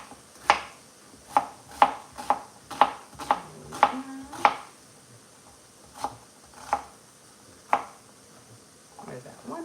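A knife chopping an onion into small pieces on a cutting board, a run of sharp evenly spaced thuds that slows to a few scattered cuts near the end.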